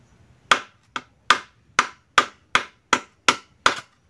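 Someone pounds a bamboo trap to break it open: nine sharp, hard woody whacks land at an even pace, each loud and close with a quick decay, and no talking between them.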